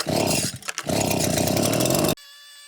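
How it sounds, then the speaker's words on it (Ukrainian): A GTM petrol leaf blower roars steadily at close range blowing debris, dipping briefly before surging back to full power, then cutting off abruptly. "ми спочатку продуємо її меншою повітродувкою, а потім продуємо старшою"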